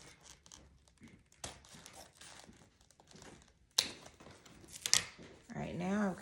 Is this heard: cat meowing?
no